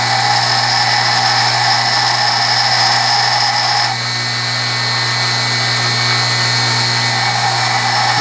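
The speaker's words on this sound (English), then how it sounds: "watch the angle that you're grinding so you can keep it parallel with the cutting edge" A belt sander grinds a flat bottom drill bit, giving a loud steady whine with strong tonal hum and scraping texture that shifts abruptly partway through as the contact changes, continuing alone without voices.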